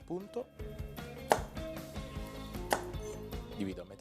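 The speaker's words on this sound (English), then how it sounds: "I cut them in half and slice" A knife slices peeled, halved carrots on a board, a few soft chopping taps sounding under steady background music.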